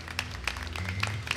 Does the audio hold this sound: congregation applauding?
yes